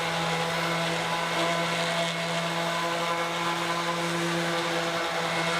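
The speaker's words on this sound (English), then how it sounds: "It'll be a lot easier if I sand the top and bottom now before I assemble it." Sanding on the top and bottom panels of a wooden storage box before assembly: a loud, steady motor whine with a constant hum that runs unbroken throughout, with no talking.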